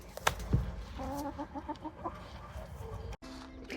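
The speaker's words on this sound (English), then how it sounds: "She is a black Australorp and she lays brown eggs." A black Australorp hen clucks in a short run of soft, rhythmic notes close by, with some rustling and scattered bumps around it.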